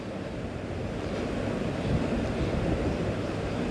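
Chital fish kofta fritters frying in hot oil, giving a steady, even sizzling hiss that holds at a constant level throughout without any talk.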